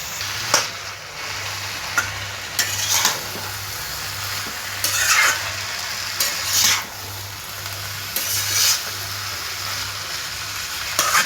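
Chopped vegetables frying in oil with a masala and tomato paste, a steady sizzle broken by repeated stirring scrapes and spoon knocks every second or so, with a low mechanical hum underneath.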